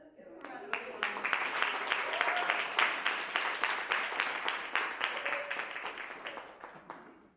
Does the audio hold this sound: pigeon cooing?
no